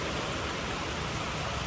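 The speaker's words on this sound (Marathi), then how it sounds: "किती पाऊस ना यार" Heavy monsoon rain pours down in a scenic spot near Nashik, a dense, unbroken hiss of drops hitting surfaces, loud and steady with no voices.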